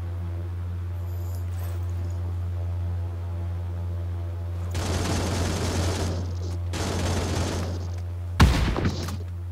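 Bursts of gunfire in PUBG New State mobile, set in Rozhok, crackle in several broad volleys over a steady low engine-like hum, with a sharper, louder burst near the end.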